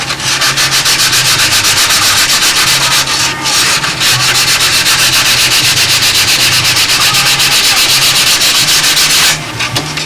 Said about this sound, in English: I can just run a piece of sandpaper in there, make some dust.